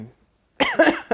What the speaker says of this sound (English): A lot of coughing, a lot of clearing my throat.